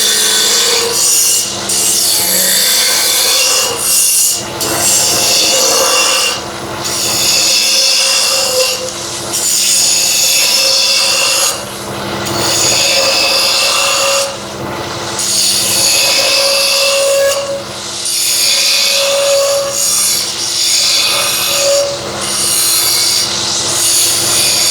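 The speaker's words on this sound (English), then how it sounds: "You can use a spindle roughing gouge, but I'm just going to use this swept back bowl gouge." A swept back bowl gouge cutting a spinning wood blank on a lathe while turning a threaded bolt, a loud continuous rough shearing hiss that rises and dips in repeated passes, with no talking.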